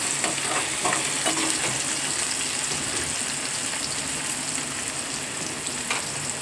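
Onion frying in a pan, stirred with a ladle, giving a continuous close sizzle with faint scraping strokes.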